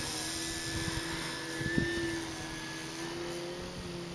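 An RC model Harrier aircraft engine runs as the throttle is opened up, giving a steady droning whine with a faint tonal hum and a small swell in the middle, at moderate distance with no voices.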